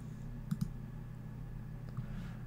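Computer mouse clicks during landscape photo editing: two quick, sharp clicks close together, then a single click, faint and close, over a quiet low hum.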